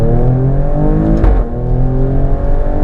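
A 2018 Alfa Romeo Stelvio Quadrifoglio SUV accelerating hard, its engine a loud, sustained roar rising steadily through the revs, heard close from inside the cabin with a brief gear-change dip.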